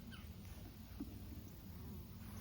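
Honey bees drone steadily at an open hive during a colony reduction and mite wash, a faint, continuous low buzz throughout with no voices.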